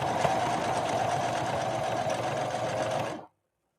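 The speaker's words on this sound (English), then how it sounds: "Now we're going to lay down a blind hem stitch and we'll see how we do." A Singer 5808C sewing machine runs a blind hem stitch through denim, a close, steady motor whir with rapid needle chatter for about three seconds before stopping abruptly into silence.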